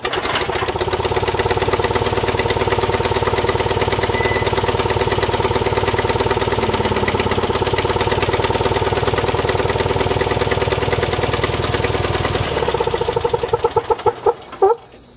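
A riding lawn mower engine runs at a steady, loud, buzzing idle close by after a cold start. It then cuts off and sputters through a few uneven final pops into silence.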